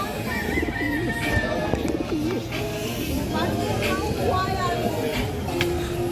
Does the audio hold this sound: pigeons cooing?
yes